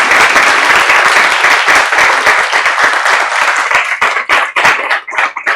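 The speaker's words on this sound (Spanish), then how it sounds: "Y más aplausos, más aplausos." Loud, dense applause from a conference audience after the opening lecture at a metallurgy and materials meeting, steady clapping that thins into scattered claps near the end.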